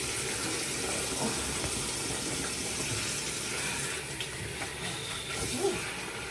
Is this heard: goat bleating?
no